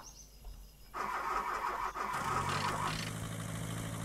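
Car engine starting in the survival driving game The Long Drive: a brief cranking whir catches and settles into a steady, close mid-pitched idle that continues alone.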